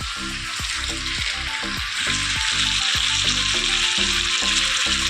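Meat sautés loudly in a hot pan, a steady close sizzle and crackle with repeated scraping strokes of a spatula or spoon stirring through it.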